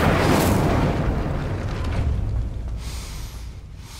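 In Hogwarts Legacy, an Incendio fire spell bursts out with a loud, roaring whoosh at the start, then a rushing, crackling flame noise that slowly fades over several seconds. No one speaks.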